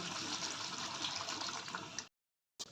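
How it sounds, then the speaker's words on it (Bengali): A little water is poured into chicken kosha, a steady close gush and splash that cuts off abruptly, then a brief final splash after a moment of silence. "বেশি জল দেবো না, একদম গায়ে গায়ে মাখো মাখো করে করবো, তাই অল্প করে জল দেবো।"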